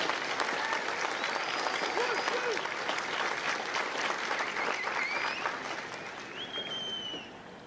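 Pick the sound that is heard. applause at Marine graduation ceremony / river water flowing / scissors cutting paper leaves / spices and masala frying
applause at Marine graduation ceremony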